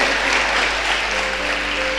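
A church congregation applauds the King of heaven at a pastor's urging, a steady dense wash of clapping filling the room, loud and continuous, with a faint sustained tone beneath.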